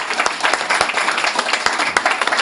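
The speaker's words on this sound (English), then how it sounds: "Round of applause for Margaret." Audience applause at an evening talk, a dense and steady burst of clapping from a crowd, fairly loud and continuous.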